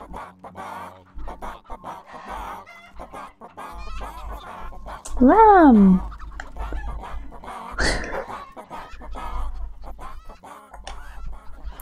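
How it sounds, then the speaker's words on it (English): Chickens in the video game Fable III, a loud rising squawk and a sharp cluck standing out among softer clucks and game sounds, with a person talking throughout. "Those damn chickens."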